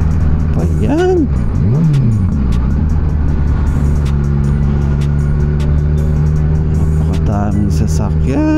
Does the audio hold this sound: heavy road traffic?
yes